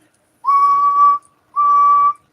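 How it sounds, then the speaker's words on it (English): A person whistles two long, steady, clear notes at the same pitch, each about three-quarters of a second, separated by a short pause; loud and close, with no talking. "I can whistle"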